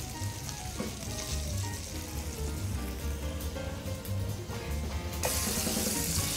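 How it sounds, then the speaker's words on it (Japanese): Beef rolls wrapped around colourful vegetables fry seam side down in a hot oiled pan, giving a steady, close sizzle that runs the whole time, with a brighter hiss swelling near the end. "巻き終わりの部分を下にして焼いていきます。"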